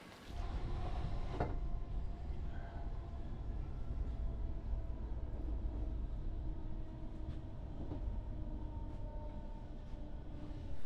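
Train on the Clyde coast line in Scotland, a steady loud rumble of the carriage running throughout with faint rail clicks, no talking.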